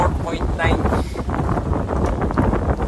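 Strong typhoon wind from Typhoon Uwan during flooding in Hagonoy buffets the microphone in a loud, gusting rumble with rough low-end surges throughout the short stretch.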